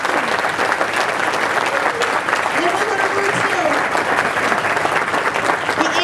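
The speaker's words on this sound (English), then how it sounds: "Can we have a round of applause?" A large audience gives a round of applause at an evening event, continuous, full clapping with crowd voices and cheers mixed in throughout.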